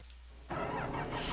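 A tractor in the video game Farming Simulator 25 starting up after a quiet idle hum, the engine catching abruptly and settling into a loud, steady rumble, with no talk.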